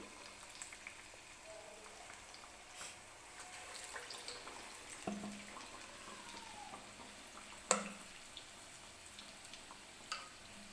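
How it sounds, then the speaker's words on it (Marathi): Potato bhaji frying in hot oil in a kadhai over medium gas, a steady, even sizzle that runs the whole time with a few sharper crackles and splutters breaking through. "तेल व्यवस्थित गरम झाल्यानंतरच भजी तेलामध्ये सोडायचे."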